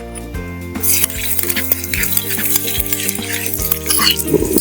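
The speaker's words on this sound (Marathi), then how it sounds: "आपला ठेचा असा ठेचून घेतलेला आपण जिरे लसूण मिरची आणि याला आता मी तेलात परतून घेतो" Crushed cumin, garlic and chilli thecha paste sizzles in hot oil for Khandeshi-style patodi rassa. Stirring scrapes recur through the sizzle, with steady background music underneath.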